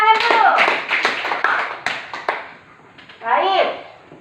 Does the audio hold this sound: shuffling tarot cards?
no